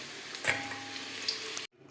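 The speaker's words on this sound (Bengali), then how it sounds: "আলুটা লাল করে ভেজে নিয়েছি এবার তুলে নেব" Potatoes frying in oil, reddened before being lifted out, a soft continuous sizzle with a light clink, stopping abruptly near the end.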